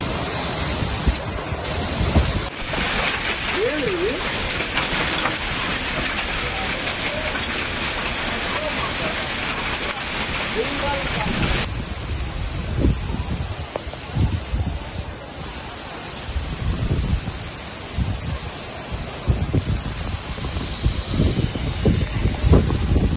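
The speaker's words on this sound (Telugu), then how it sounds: "మరోవైపు అన్నమయ్య జిల్లా మదనపల్లెలోని మళ్లీ వడగళ్ల వాన కురిసింది" Heavy rain mixed with hail pours down in Madanapalle, Annamayya district, a dense, loud, unbroken hiss and patter lasting throughout, with a voice speaking faintly underneath at times.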